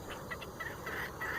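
Quiet clucking from chickens and roosters, a few short repeated calls over a faint background hum.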